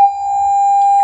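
A single clean, high-pitched 800 Hz pure tone holds steady for about a second, bright and constant, alone.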